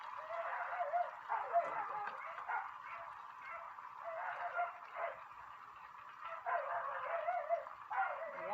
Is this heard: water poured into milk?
no